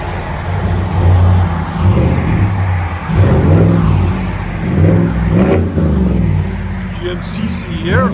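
A GMC Sierra with a 5.3L V8 burbles loudly through its exhaust, pulsing in several rolling revs over a constant low drone, with brief talk at the end.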